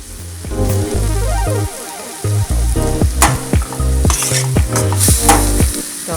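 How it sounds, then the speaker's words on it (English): Halved tomatoes sizzling loudly in a hot pan as they cook down, with bursts of spatter and repeated scraping stirs and utensil clatter close up, no voices. "I cook them down until I see the skin starts to wilt."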